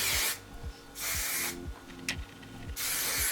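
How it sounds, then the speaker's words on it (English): Hairspray hisses from an aerosol can onto freshly curled hair in several short bursts, close and clear, separated by quiet pauses with faint handling sounds. "now I'm going to spray those curls down."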